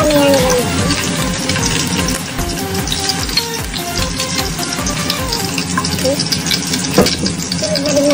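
Crushed garlic frying in hot oil for chicken and pork adobo, a steady close sizzle with stirring clatter and some background speech mixed in.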